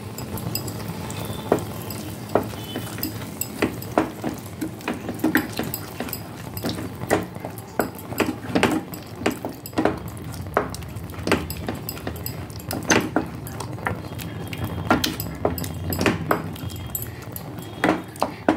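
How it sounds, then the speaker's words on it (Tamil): Masala with curd sautés in a pan for an egg gravy, a steady soft sizzle broken by frequent clinks and scrapes of a spoon stirring against the metal. "அதையும் போட்டு வதக்கிக்கலாம்"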